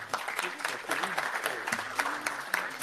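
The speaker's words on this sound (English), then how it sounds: "A round of applause for Manuel." Steady applause from a conference audience of moderate size, with a dense patter of claps held evenly across the moment, not very close, amid some faint voices.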